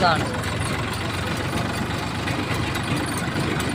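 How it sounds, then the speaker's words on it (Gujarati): A tractor engine runs steadily at close range at night, giving a loud, continuous low rumble with no break in its drone. "છે આવે છો ટ્રેક્ટર આવે ટ્રેક્ટર આવે"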